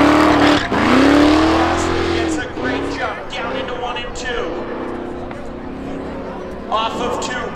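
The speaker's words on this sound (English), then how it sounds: "Off of 2, Crosley, smooth sailing over the 2024 Toyota into 3 and 4." Cars launching at a speedway spectator drag race, loud engines roaring and revving close by, fading as they pull away down the track, with an announcer talking over the noise.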